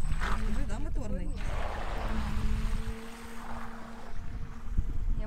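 Small electric motor of a Phantom remote-controlled carp bait boat running on water, a steady near whine with outdoor wind and water noise, while people talk over it.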